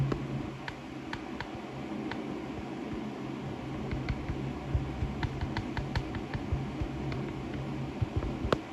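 Scattered clicks of keys on an Xbox keyboard tap out irregularly over a steady fan-like hiss, faint and close, with no talking.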